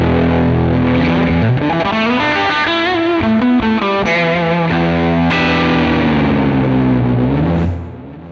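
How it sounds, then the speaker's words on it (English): Duesenberg Paloma electric guitar in Catalina Blue driven through heavy distortion, with loud, saturated sustained notes bending and sliding before the sound drops off at the end. "Let's see, with more distortion."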